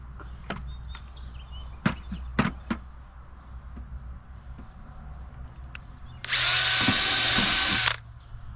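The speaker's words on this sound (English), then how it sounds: "And I'm probably drilling them every 6 inches." A few sharp knocks and taps, then a power drill whirs loudly for about two seconds before stopping as it drills into wood.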